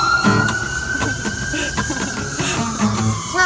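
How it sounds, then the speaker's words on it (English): An ambulance siren wails steadily in the distance beneath a noisy, rumbling background, its tone holding fairly constant at a moderate level. "Ambulance solo!"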